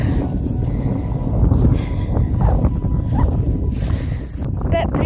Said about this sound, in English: Bit breezy, so sorry about that.